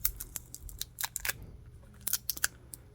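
Small crackling peels and sharp ticks as tape is pulled off a TCL phone battery, a quick irregular run of close, crisp snaps with short pauses between.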